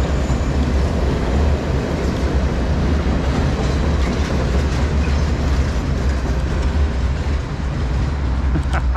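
Reading and Northern 2102 passing close by, a loud, steady roar of wheels and rail clatter that fills the scene continuously, with no talk over it.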